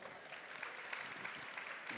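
An audience at a pastry master class applauds in a steady, moderately quiet patter of clapping, with no voices over it.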